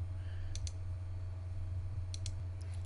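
Computer mouse clicks when saving a file: a couple of quick paired clicks, then another pair a moment later, crisp and close over a low steady hum.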